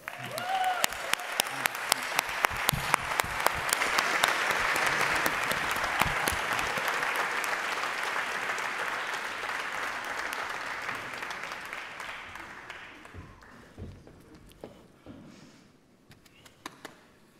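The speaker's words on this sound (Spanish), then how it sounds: "Fuerte el aplauso para Martín" Audience applause at the opening ceremony of the 30th FIC Valdivia film festival, a long sustained round of clapping that swells, holds steady, then thins out to scattered claps near the end.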